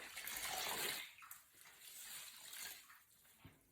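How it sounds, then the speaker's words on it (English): Water splashing and trickling as wet Norwex cleaning cloths are wrung out over a basin, a soft gushing swell followed by smaller drips and sloshes, quiet and close. "gonna take each one and wring it out really well"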